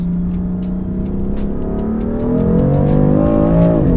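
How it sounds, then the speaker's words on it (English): BMW M4 accelerating hard through gear changes, its engine note rising steadily in pitch with a shift partway through, loud and close without speech. "Third gear, second gear, wonderful gear changes."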